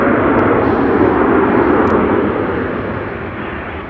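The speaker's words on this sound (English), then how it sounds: "I think there's an Airbus A340 over here. Yeah, there's Lufthansa." A Lufthansa Airbus A340 at Chicago O'Hare produces a broad, loud jet roar that holds steady and then slowly fades.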